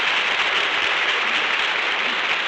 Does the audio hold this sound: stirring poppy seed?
no